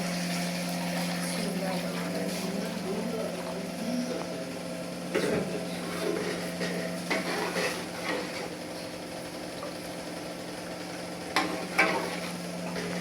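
Water poured into frying masala for chickpea pulao in a large pot, a continuous sizzle and bubbling with occasional clinks of a spoon against metal, a steady hum underneath.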